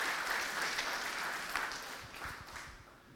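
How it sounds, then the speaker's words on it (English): A conference audience at a JavaScript and machine-learning talk applauds, many hands clapping in a steady, moderately loud burst that slowly tapers off. "more applause, more applause"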